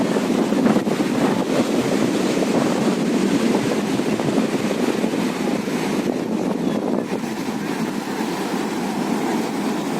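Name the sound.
sea waves and wind on beach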